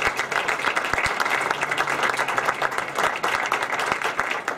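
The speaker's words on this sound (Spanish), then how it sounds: "Un aplauso para los chicos." An audience at an Ateneo talk about the first electric car in the Dakar Rally applauds a group of young people, a full, continuous patter of many hands clapping at a moderate distance.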